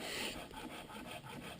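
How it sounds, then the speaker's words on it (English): Seasoned oak firewood is cut with a hand saw at a backpacking campsite, giving a close, continuous rasping scrape with quick regular strokes over a short stretch. "he's sawing it up and batoning it with his axe"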